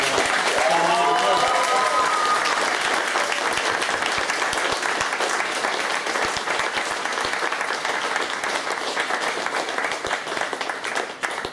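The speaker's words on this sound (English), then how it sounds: "Can we have a big round of applause for..." Sustained applause from a large crowd at a fan gathering Q&A, steady and dense throughout, with a few faint voices and cheers near the start.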